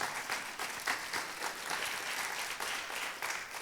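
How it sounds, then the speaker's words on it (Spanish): A church congregation applauding together as an offering of praise, a dense, continuous burst of many hands clapping that fills the room for a few seconds at a steady level. "eso merece una ofrenda de palmas al Rey"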